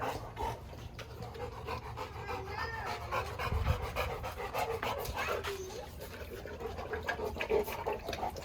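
Cane Corso puppies pant steadily and close by, a rapid wet rhythmic breathing that runs throughout, with brief snuffles and a low bump midway.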